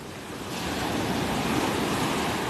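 Steady wind roars across a beach at the water's edge in North Naples, Florida, a dense broadband rush blending with surf and buffeting the microphone without a break.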